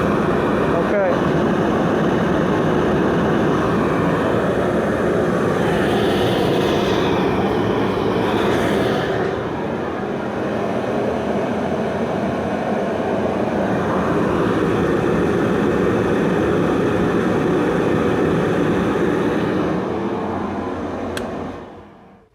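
A repaired domestic oil burner fires and runs with a loud, steady roaring rumble close by. The roar holds for about twenty seconds before dropping away at the end, and a person talks over it.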